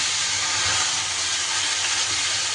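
Spice paste dropped into hot oil for a cucumber curry, giving a steady, loud broadband sizzle and hiss that holds evenly throughout with no talking.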